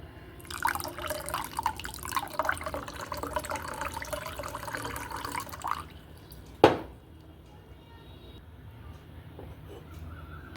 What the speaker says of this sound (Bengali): মিষ্টিটা পুরো গুলে গেছে আমি জলটা ঢেলে দিলাম এর সাথে